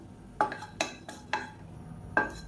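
Six light cinnamon pieces are dry-roasted in a pan, with four sharp metallic taps of a spoon against the pan at an uneven pace, close and fairly quiet.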